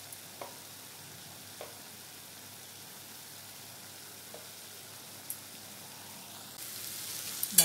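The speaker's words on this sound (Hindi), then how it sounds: "और इसे इस तरह से भुनेंगे।" Spice masala fries in a pan with a soft, steady sizzle, broken by a few faint clinks from stirring and a louder burst of frying near the end, with no talking.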